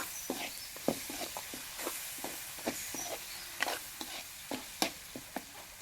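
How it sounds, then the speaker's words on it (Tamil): Onion, tomato and ginger-garlic masala for quail fry sizzle softly in a pan as a spoon stirs and scrapes at an uneven rhythm, with a dozen or so light tapping strokes over the quiet frying. "நல்லா எந்த அளவுக்கு நம்ம வந்து வதக்கணுமோ அந்த அளவுக்கு வதக்கணும்."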